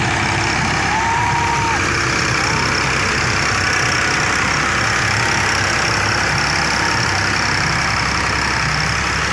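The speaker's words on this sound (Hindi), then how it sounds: "ये देखें ट्रैक्टर फोर्ड 4610 4x4" A Ford 4610 4x4 tractor's diesel engine runs steadily at idle, a loud, continuous low rumble with no talking over it.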